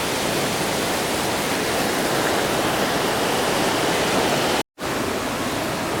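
Clean, powerful river water rushing through a gorge in Slovenia, a steady, loud broadband roar that stays constant throughout, broken only by a split-second gap near the end, with no voices.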